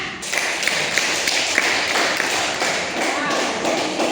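A classroom of students claps their hands together in a dense, steady burst of many overlapping claps lasting several seconds.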